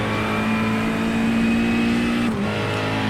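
McLaren GT3 race car with a big V8 in iRacing at Summit Point, its engine note holding a steady high drone under load before a sharp drop as the revs fall near the end, loud and close with no talk.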